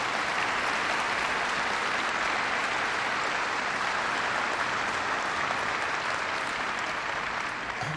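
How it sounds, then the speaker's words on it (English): A large audience at a NASA-related gathering gives sustained, dense applause that stays loud and even throughout, with no pauses. "Please give her a big round of applause."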